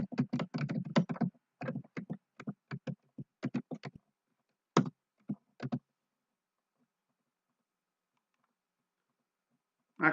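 Keys clatter on a computer keyboard in quick, uneven bursts of crisp clicks, then a few isolated taps and a long near-silent stretch before one last click.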